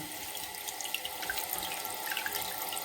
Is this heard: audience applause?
no